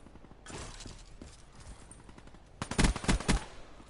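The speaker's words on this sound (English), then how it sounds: "Oh, someone's shooting at me." Black Ops 3 video game gunfire: quiet scattered pops at first, then a loud cluster of three or four sharp rapid shots near the end.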